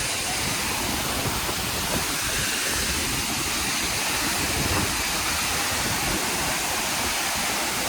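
Ranpat waterfall in the Konkan region roaring as a steady, loud broadband wash of falling water that continues unbroken throughout, with no voices.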